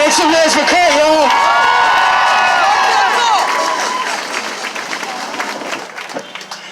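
A crowd at an outdoor march for justice for Daunte Wright bursts into loud cheering, whoops and applause, with shouting voices mixed in, then gradually tapers off.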